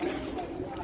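A Sialkoti racing pigeon coos as it lands at the end of an open cup pigeon race, a brief low warbling call heard close by with murmuring voices in the background.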